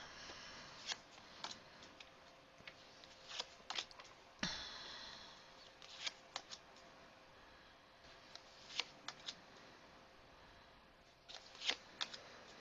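Tarot cards being shuffled close up and quietly, with a run of soft, irregular riffles and snaps spread across the stretch and no talking.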